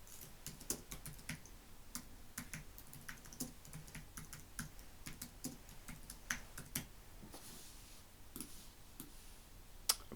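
A computer keyboard is typed on steadily while a title is entered into a text box, with irregular close clicks and taps running throughout and no talking.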